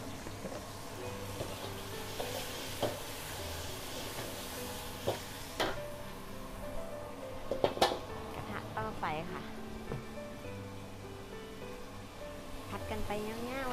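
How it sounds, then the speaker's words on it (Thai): Noodles stir-fried in a pan at a Thai food stall in Sweden, a soft, steady sizzle with scraping and clinking of the utensil against the pan as someone talks over the cooking. "ผัดกันไปง่ายๆด้วยนะคะ"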